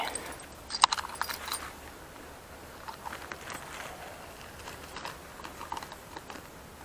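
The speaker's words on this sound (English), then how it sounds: "Put these keys away." Keys jangling as they are put away, a few faint metallic clinks and rattles near the start and again midway, over quiet background.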